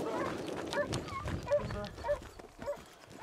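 Hunting dogs bark during a wild boar hunt, a few short yelps and barks that sound moderately distant and fairly faint over rustling outdoor background noise.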